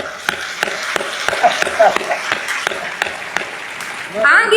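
An audience at a spiritual discourse claps in a loose, steady rhythm of distinct claps over a murmuring room, swelling into a denser, louder burst at the very end.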